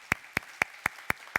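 Claps of welcome ring out at a Korean church Sunday service: six crisp, evenly spaced hand claps in a steady rhythm, close and clear, with no talk.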